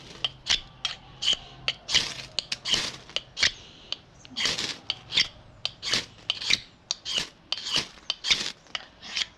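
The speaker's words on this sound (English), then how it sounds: "let's scrape off some of this paint" Scraping old paint off a wooden handle of fatwood, a rapid series of short, sharp rasping strokes repeating close-up at a steady, slightly irregular rhythm with no talking.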